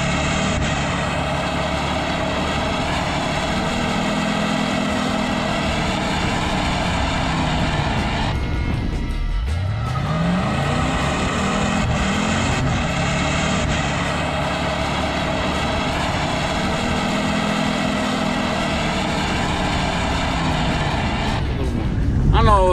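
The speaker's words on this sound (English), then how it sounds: "when you start a burnout in first gear and want to shift to second gear and you gotta spin the column" A Pontiac Trans Am doing a burnout roars loudly and steadily, its engine dipping then climbing again midway through as it is shifted from first to second gear, with voices over it.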